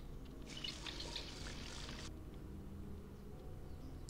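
Water fills in a cutscene from the Coraline video game, a soft splashing pour that runs for about two seconds over a constant low background hiss before fading away.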